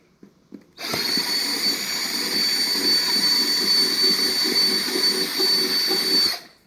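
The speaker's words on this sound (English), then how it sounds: "you're going to go ahead and drill holes" A power drill drilling holes in styrofoam whines steadily at high pitch for several seconds with a gritty buzzing underneath, starting abruptly after a couple of soft clicks and stopping sharply.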